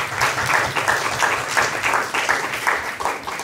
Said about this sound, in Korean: 우리 찬양팀 우리 박수 한 번만 해주세요